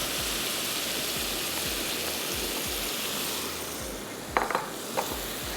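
Boiled chana dal tumbles into a pan of cooking lauki gosht, setting off a steady sizzle and rhythmic stirring scrapes, with a few sharp utensil clinks near the end.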